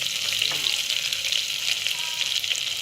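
Spices and curry leaves sizzle and crackle steadily in hot oil with small pops, close up, with faint stirring and no talking.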